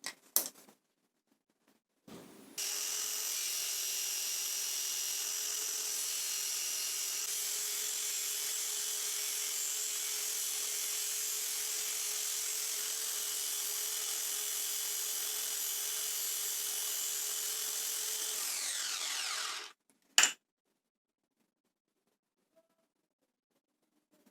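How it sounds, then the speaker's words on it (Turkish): A polishing machine fitted with P60 sandpaper grinds steadily with a high, hissing whine for about seventeen seconds while sharpening a 12-volt test light tip, then winds down and stops, with brief clicks before and after. "Polisaj makinama P60 zımpara yapıştırdım"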